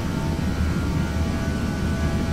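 Airliner engines at takeoff power in a flight simulator on departure from Miami: a loud, steady, broadband roar that holds constant throughout, with no voices over it.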